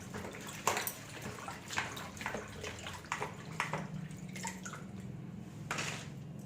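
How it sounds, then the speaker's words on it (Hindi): Water sloshes and splashes in a bowl as chillies are rinsed, in irregular bursts of gentle swishing and dripping, close by and fairly quiet. "मिर्चों को भी हम पहले एक पानी से वॉश कर लेंगे अच्छे से"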